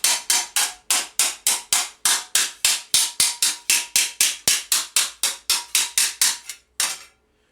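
A hammer taps a steel elbow couter in a fast, even run of about twenty close, ringing metallic strikes, ending in one last separated blow.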